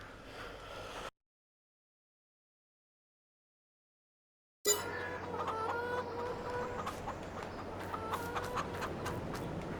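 Chickens in Farming Simulator cluck and chatter as a close, busy flock, the sound dropping out for a few seconds of silence before resuming with steady, overlapping clucks.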